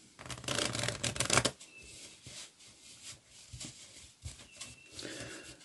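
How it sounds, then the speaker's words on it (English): A packet of playing cards is shuffled on a card mat during a mind-reading card trick, starting with a loud dense burst of riffling, then softer scattered slides and taps. "To make it even fairer, we'll give the packet a bit of a shuffle."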